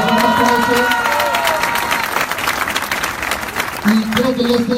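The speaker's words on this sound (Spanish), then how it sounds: "Les damos un aplauso." Crowd applause with some cheering for party leaders at a Morena pre-candidate registration event, sustained and close, with a voice talking over it at the start and end.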